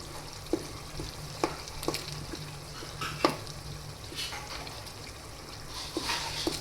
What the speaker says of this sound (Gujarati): આપણે તેમાં એડ કરી દઈશું લસણવાળી ચટણી અને તેને થોડીવાર માટે તેલમાં જ આ રીતે ચડવા દેશું